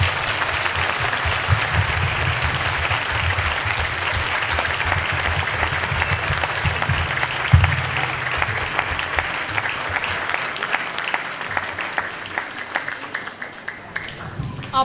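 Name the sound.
audience applause for the teachers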